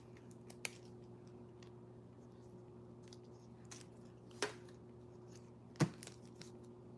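Scissors snipping in a quiet room, a few faint, sparse cuts separated by pauses, with two sharper snips near the end over a low steady hum.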